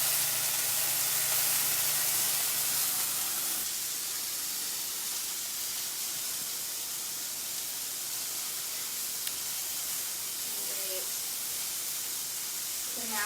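Steak pieces sizzle in a hot skillet, a steady broadband hiss of frying that holds evenly throughout with faint clinks near the end.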